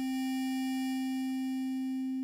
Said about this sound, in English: Now I'll go in the instrument and I can edit the sine wave.